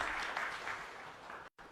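An audience at a Punjab chief minister's industry event in Ludhiana applauds with a dense, steady clatter of clapping that stays fairly faint and distant and stops abruptly near the end.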